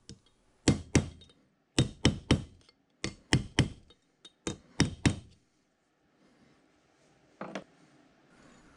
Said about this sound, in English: I'm just going to tap this home through that inner race of the bearing